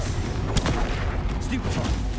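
Confringo spell explosions burst in the video game Hogwarts Legacy, loud, dense booms and crackles layered over continuous battle noise.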